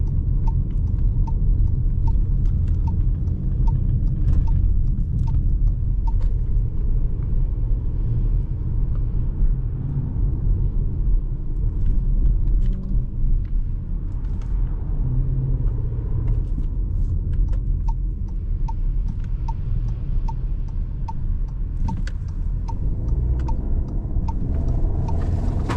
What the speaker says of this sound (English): Great engine noise on this. Very great engine noise.